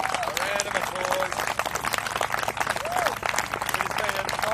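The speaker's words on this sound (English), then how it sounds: "go on, let's give this a round of applause" Crowd at a backyard ultra race applauds a runner, a dense round of clapping with cheers and a few whistles, while people talk over it.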